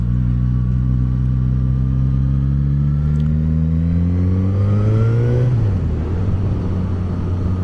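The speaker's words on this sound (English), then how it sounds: "I love the sound of this motor. I love the sound of the exhaust." A 2019 Suzuki GSX-S1000 sport motorcycle engine revs steadily with a deep, loud exhaust drone, its pitch climbing gradually before dropping off, heard up close with no talking.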